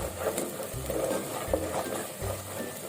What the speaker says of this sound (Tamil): நல்லா இது பொரிஞ்சிருச்சு. நல்லா எண்ணெய் பிரிய ஆரம்பிக்குது.